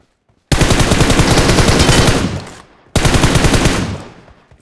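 Two loud, close bursts of rapid automatic gunfire from a mobile shooter game played on an iPhone XR, a long sustained burst followed after a short gap by a second one, both tailing off.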